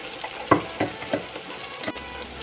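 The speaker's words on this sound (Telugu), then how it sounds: "ఈ మిక్సీలో పట్టుకున్న బ్యాటర్ మొత్తము ఇందులో వేసి బాగా ఫ్రై చేసుకోవాలి" Blended batter frying in a pan of hot oil as it is stirred, with a steady sizzle under several distinct scraping strokes of a spoon, moderately close and with no talking.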